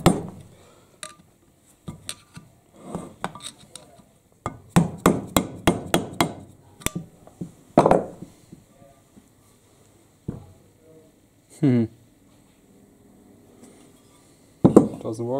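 Repeated metal hammer blows drive a bearing shaft out of an Aprilia RS 125 motorcycle, a rapid burst of sharp, ringing strikes followed by scattered single knocks and pauses, close and loud with no speech.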